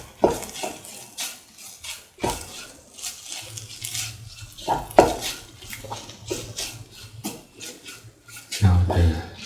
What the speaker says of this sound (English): Salt and scrambled eggs thoroughly and mix all the ingredients properly with eggs.